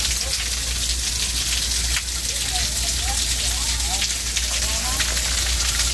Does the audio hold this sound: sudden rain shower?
yes